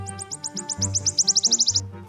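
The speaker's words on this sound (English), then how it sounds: "lure his target with a recording of another wood warbler singing" A recorded wood warbler song plays close by: a rapid series of high chirps that quicken into a fast trill before stopping abruptly.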